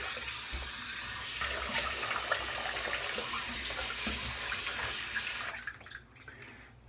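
Water runs steadily from a bathroom tap during rinsing after a shave, a loud, continuous splashing rush that cuts off abruptly near the end, leaving quiet room tone.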